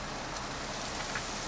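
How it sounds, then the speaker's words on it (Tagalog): Freezing rain falls as a steady, dense hiss outdoors, an even wash of fine patter with no distinct drops standing out and no speech. "Freezing rain,"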